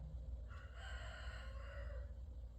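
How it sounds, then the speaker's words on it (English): A rooster crows once in the distance, a drawn-out call rising and falling over steady low background rumble. "that rooster you might hear in the background"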